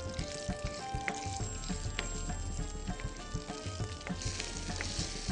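Okra frying in a pan with salt and crushed red chili, a steady close sizzle and crackle broken up by light clinks and scrapes of a spoon stirring, with no talking.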